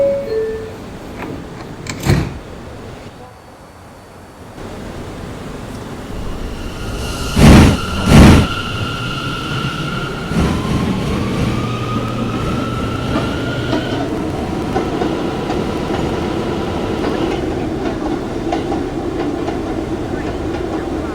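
A Brooklyn-bound R179 M local subway train runs on the Myrtle Avenue line, a steady rolling rumble with brief loud clanks and a rising motor whine, heard close from inside the car with faint voices at moments.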